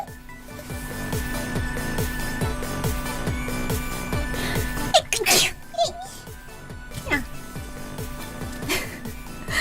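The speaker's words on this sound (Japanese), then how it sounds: "くしゃみが出てしまいました。" A person's single loud sneeze bursts out about halfway through, over a steady background of rhythmic game music and faint voice sounds.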